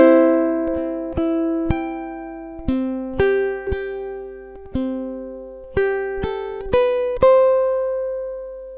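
Ukulele strumming two measures of a song: a steady run of bright plucked chords, each struck cleanly and left to ring, played alone and close with no voices.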